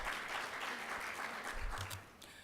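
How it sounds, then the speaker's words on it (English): A round of applause from an audience at the Minority Investment Managers Forum, dense steady clapping from many hands heard at moderate distance, with a faint voice briefly underneath. "give everybody a round of applause for their hard work"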